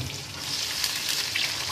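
Boiled beef brain fries in oil with ginger and garlic, a brief, soft, even sizzle heard up close with no talk.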